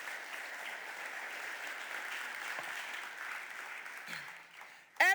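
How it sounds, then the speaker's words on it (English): Steady, fairly distant audience applause fills a Philadelphia City Council chamber during a mayoral budget address, then fades just before a voice begins at the very end. "Please give Green Space a round of applause."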